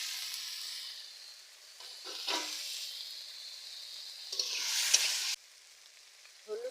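Grated potato dropped onto onions already frying in a pan, giving a loud, steady sizzle that swells as the potato hits the hot oil, with occasional stirring scrapes and no voices.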